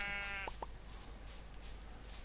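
Sheep in a video game bleating in two short, quick calls near the start, fairly faint over a quiet background hum.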